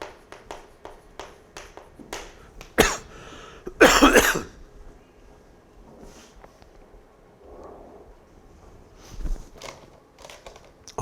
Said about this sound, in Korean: 갑자기 또 막 기침이 나와서